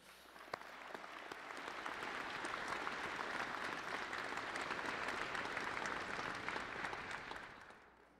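Graduates at a convocation ceremony applaud their parents, friends and family: a broad, sustained round of crowd clapping that swells over the first seconds, holds steady, then fades, heard from some distance.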